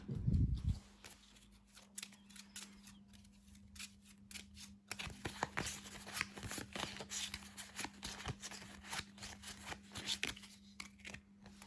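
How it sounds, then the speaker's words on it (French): Playing cards dealt in a round of the Flourish card game, a rapid run of crisp snapping card slaps at close range with a low steady hum beneath, no talking. "on va d'abord finir de donner les cartes"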